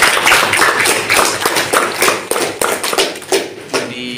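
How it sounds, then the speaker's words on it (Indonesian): Students in a classroom give a burst of applause, dense and close, fading out over a few seconds. "Tepuk tangan."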